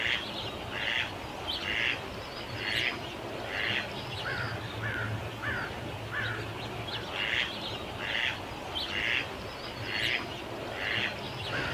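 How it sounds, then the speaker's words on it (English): Ducks call from somewhere back in dense trees, a steady run of repeated harsh, nasal calls in short bursts over a constant rushing background, fairly distant and never pausing for long. "You can hear the ducks back there."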